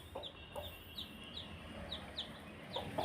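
A hen clucking near newly hatched chicks in a brooding setup, a series of soft, short clucks and chirps repeating every half second or so, faint and without talk.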